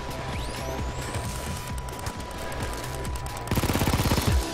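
Sniper gunfire in the Payday 2 video game, sharp shots cracking over dense, constant game noise, with a rapid burst of repeated shots toward the end.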